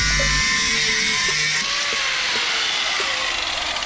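A handheld power cutting tool slices a gap in an e-bike handlebar for a throttle, a loud, steady high-pitched whine with slight changes in pitch as it bites, heard close with no talking.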